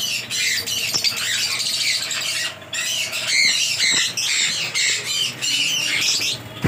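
Lutino Fischer's lovebirds at a bird breeding farm in Santragachi, Howrah, fill the air with a dense, continuous chorus of shrill squawks and chatter, close and loud, with only brief lulls.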